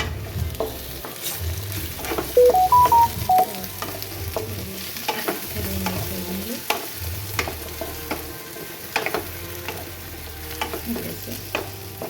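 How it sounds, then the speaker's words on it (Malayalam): Ripe nendran plantain sautéing in a pan produces a constant close sizzle, broken by the repeated scrape and knock of stirring strokes and a brief high tonal chirp early on. "ഏകദേശം നല്ല പ്രായമായിട്ടുള്ള നേന്ത്രപ്പൂ ഇട്ടിട്ട് നന്നായി വഴറ്റിട്ട്"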